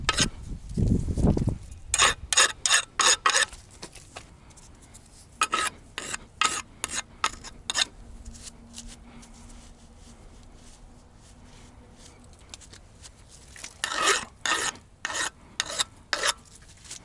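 A hand file rasps against a steel excavator thumb pin for a Kubota KX121-3 mini excavator, removing sharp corners in quick bursts of short scraping strokes with pauses between, close and clear.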